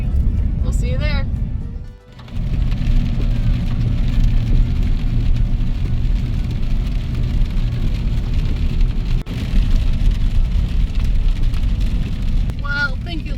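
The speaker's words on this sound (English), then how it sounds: "thank you, Lord, for the rain" Steady rain pours down outdoors during wild apple and elderberry foraging, a constant broadband hiss that holds throughout with a brief dropout, while people speak over it at times.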